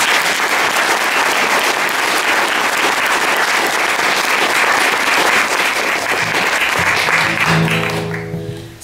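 Dense, sustained audience applause at a folk album launch gig, loud and even for several seconds before fading out as musical tones begin to sound.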